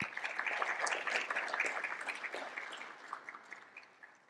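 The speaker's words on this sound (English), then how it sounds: "Special round of applause for Ken and his team" Quiet, fairly distant applause from a conference audience at a closing session runs continuously, then thins out and fades toward the end.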